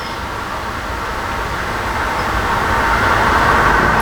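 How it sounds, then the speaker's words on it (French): A car passes by outdoors, a loud, broad rushing roar that swells steadily as it draws nearer. "Voiture, attendez."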